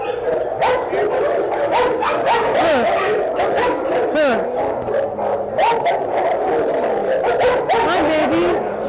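A dog barks, yips and whimpers continuously and loudly at close range, with high whines and sharp barks tumbling over each other throughout.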